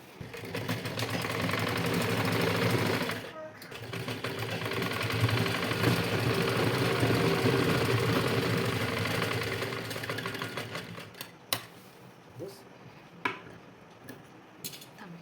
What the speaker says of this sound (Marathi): चला आता मी शिलाई मारून घेते, मशीनवरती फिटिंग करून घेते त्याची.